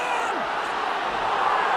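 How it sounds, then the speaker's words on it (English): A rugby league stadium crowd at a Leeds Rhinos v Bradford Bulls match reacting with a broad, steady roar of disapproval, loud and sustained, with a commentator talking over it. "Crowd don't like it"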